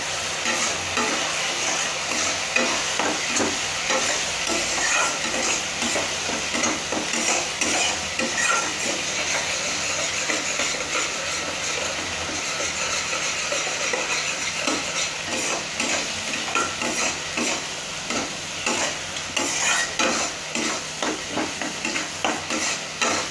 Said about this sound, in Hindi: मसाला को ना हम लगातार चलाना चाहिए, जितना फ्राई करोगे उतना उसका टेस्ट आता है।